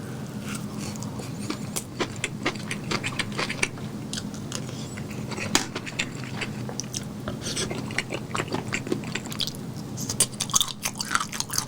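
Crunchy snack foods from a Korean bar (Tudari pub dishes, skewers and fried pork skin) are chewed close to the mic in steady rapid crisp bites, with faint room noise behind.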